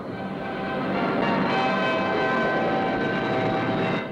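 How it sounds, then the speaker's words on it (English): A large four-jet airliner powered by Rolls-Royce Avon engines touches down at an air show, its reverse thrust a loud, steady roar that swells slightly and holds throughout. "Notice the effect of reverse thrust from the four Rolls-Royce Avon jets as the huge airliner touches down."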